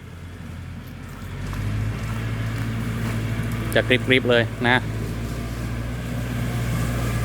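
A Kubota L4708 tractor mows grass in a palm plantation, its engine a steady, loud low drone throughout, with someone speaking briefly over it partway through.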